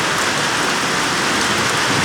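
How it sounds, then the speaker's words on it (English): Heavy rain pours in a steady dense hiss beneath a large thundercloud, with a low rumble underneath that suggests distant thunder, continuous and loud with no voices. "I think there's thunder throughout this whole big cloud."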